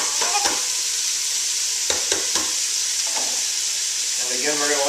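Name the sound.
half a bulb of garlic sautéing in a pot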